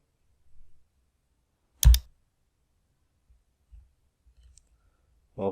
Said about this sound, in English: click download wallpaper